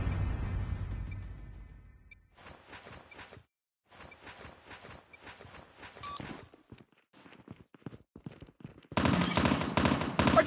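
Scattered bursts of gunfire in Call of Duty Mobile, crackling rapid shots in short clusters with gaps between, mostly faint to moderate, ending in a dense loud burst.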